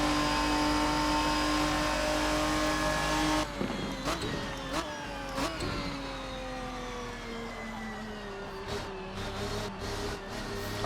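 Ferruccio 57 GT car engine in the RSS sim racing game, a steady high engine drone with gear shifts and throttle changes, fairly loud with no talking.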